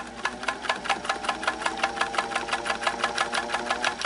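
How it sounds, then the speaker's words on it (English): A Singer 329K sewing machine stitching slowly, a close, steady mechanical chugging with a regular rapid rhythm and motor hum, heard alone. "We're just going to sew. I'm going to go slow at first."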